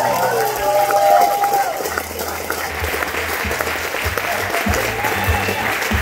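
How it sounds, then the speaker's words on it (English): Loud, continuous applause from wedding guests for a bride and groom, with cheering and a voice speaking over the clapping throughout. "Let's get a big round of applause, ladies and gentlemen"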